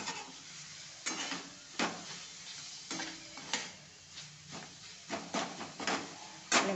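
Onion-garlic masala being stirred into brinjal frying in a pan, with repeated scraping strokes of a spoon against the pan over a steady low sizzle, fairly quiet and close.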